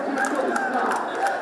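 Large crowd celebrating across Shahbag road, a dense mass of shouting, cheering voices blending into a loud, continuous roar.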